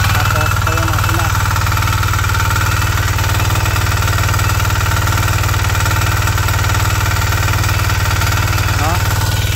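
A small irrigation pump engine feeding a drip irrigation system runs steadily and loudly close by, a constant mechanical drone with no change in pace throughout.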